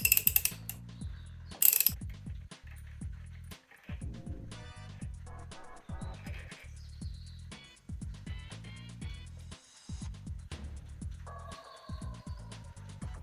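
A ratchet clicks in short bursts of rapid mechanical ticks with pauses between them, close and fairly quiet, while the crankshaft bolt of a 1973 Kawasaki S2A motorcycle is unscrewed and the crank is held with an oil filter chain.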